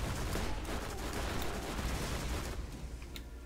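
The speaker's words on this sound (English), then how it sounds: "If you shoot the barrel, they do an explode." Explosions and gunfire from the shooter game Borderlands, where a shot barrel bursts; a dense, continuous crackle of blasts and shots runs loud throughout, fading slightly toward the end, with no talk.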